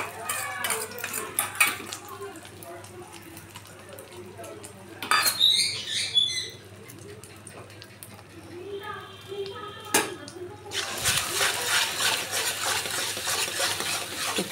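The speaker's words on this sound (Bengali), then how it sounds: "নাড়িয়ে আমি এটাকে ডিমের ভুজিয়া বানিয়ে নিচ্ছি" Four beaten eggs scrambled in hot oil in a kadai: steady spatula scraping and stirring over a soft sizzle, with a brief vocal interjection and a louder burst of frying near the end.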